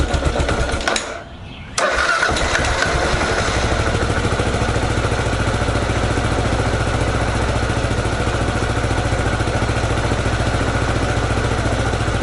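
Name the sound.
Kawasaki KLR 650 motorcycle engine starting and idling on choke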